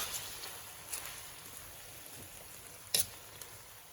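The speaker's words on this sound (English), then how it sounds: "And we're going to turn off the heat and continue stirring." Garlic-coated noodles being stirred in a pan after the heat is switched off, a faint, soft crackle with a few light scraping clicks, quiet and close.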